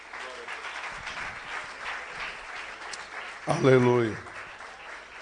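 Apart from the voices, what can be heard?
audience applause in church seminar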